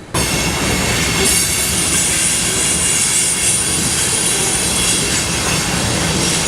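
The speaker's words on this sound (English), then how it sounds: "An eastbound unit train rumbles over the spring runoff" An eastbound unit train rumbles over the rails near spring runoff, a loud, steady roar of wheels and cars with a high metallic squeal riding on top, continuous and close throughout.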